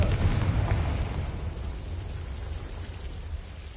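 Confringo blasting spell detonating in Hogwarts Legacy, a loud low boom up front that rumbles and decays over a few seconds.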